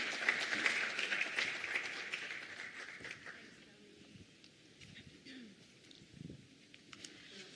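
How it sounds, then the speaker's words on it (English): Broad, dense clapping from a conference crowd fills the first few seconds, then fades to a quieter murmur with scattered claps and faint chatter. "Let's give them a big round of applause, please."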